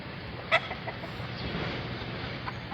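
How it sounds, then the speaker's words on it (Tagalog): Many chickens cluck and murmur on a rooftop in Bitas, a steady flock chatter with one sharper squawk close by early on. "Ang dami nilang manok oh."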